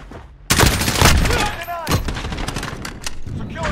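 Gunfire erupts in a shooter video game, a sudden loud volley of rapid shots that continues in dense bursts with a voice talking over the battle.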